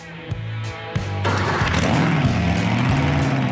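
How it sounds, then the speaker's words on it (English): A competition pulling tractor engine fires up and roars, starting with sputtering low-pitched pulses that catch into a loud, steady rumbling idle close by. "That's the roar of a competition pulling tractor that means business."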